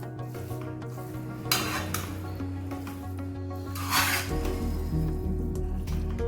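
Brinjal rice tossed with chopped coriander in a pan, a spatula scraping and stirring in steady strokes with a faint sizzle and an occasional louder clink of metal, close up with no talk.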